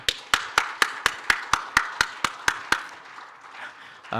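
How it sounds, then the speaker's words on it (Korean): A church congregation claps in welcome for an elder, about a dozen sharp, evenly spaced claps in a steady rhythm that stop, leaving a quiet room tone. "우리 박수로 환영하겠습니다"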